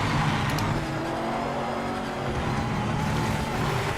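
A GTE race car engine in the racing game Project Motor Racing drones steadily at moderate volume, with no talk over it.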